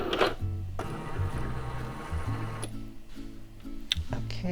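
A Cricut Maker 3 cutting machine runs at home with steady mechanical ticking and whirring, its carriage moving in repeated rhythmic passes with brief pauses between them, close and moderately loud, with no talking.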